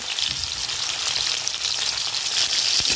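Whole cumin, slit green chillies, tomato and salt sizzle steadily in hot oil in a kadai, a continuous close crackling hiss with no talk.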